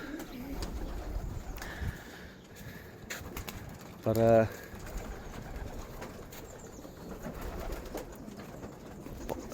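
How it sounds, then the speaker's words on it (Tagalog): A pigeon coos once, briefly and fairly close, as birds are let out, amid light background noise and faint stirring. "Pakawalan ko lang yung mga ibon natin"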